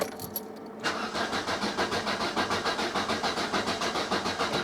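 Opel Kadett E being started after years off the road: a click, then the starter cranks the engine in a fast steady rhythm for several seconds without firing, heard close and clear with no talking.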